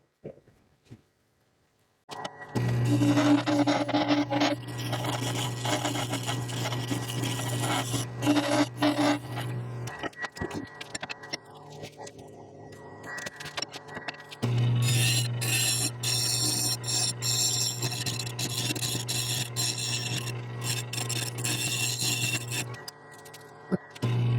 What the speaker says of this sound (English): Anyway, I get this sanded up